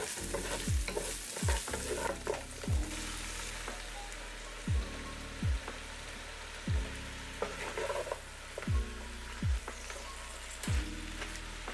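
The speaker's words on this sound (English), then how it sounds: "Mix everything together, lifting the carrots up from the base to encourage the cabbage to get heated and start wilting." Cabbage pieces and carrots are stirred together in a pot, with a spoon knocking and scraping against the pot in a steady series of strokes roughly every second over a soft sizzle, close and alone without talking.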